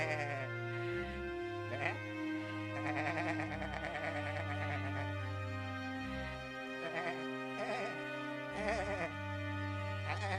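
Goats bleat repeatedly over sustained background music, several drawn-out, nasal cries spaced a second or two apart, fairly close and clear.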